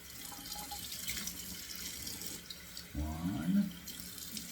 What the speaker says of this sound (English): let's give it 2 splashes of cold water. Yep, running cold